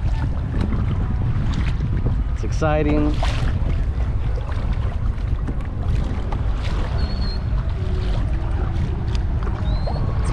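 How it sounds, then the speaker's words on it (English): Wind and water noise on the open ocean off Holbox, Mexico, from a kayak among seagulls, a steady broadband rush that stays loud throughout, with brief calls and a voice speaking over it. "In the middle of the ocean on a kayak."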